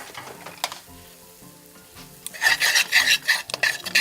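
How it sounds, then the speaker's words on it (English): Chopped onions hit a browning flour roux in a pan, turning a quiet, low bubbling into a loud, bright sizzle with stirring and scraping of a utensil against the pot. "Brown this and put my onions in it."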